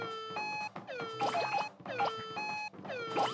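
Cartoonish cat meows from Katamari Damacy REROLL, four repeated bright tonal calls in a steady rhythm, clear and alone.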